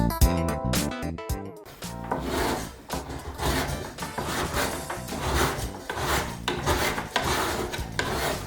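Wood is rubbed and rasped in quick back-and-forth strokes, a close, scratchy rhythmic sound continuing steadily without any voices.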